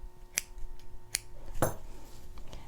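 Scissors trimming the ends of a ribbon on a fabric angel ornament: three or four quick crisp snips, close and isolated against a quiet room hum.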